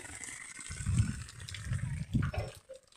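Water gushes and splashes from a tap in short uneven bursts, fairly close but not loud, with no talking.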